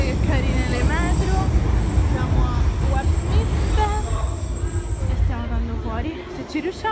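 A London Underground metro train rumbles loudly and continuously nearby, with deep low-end roar and rattling carriages under women chatting.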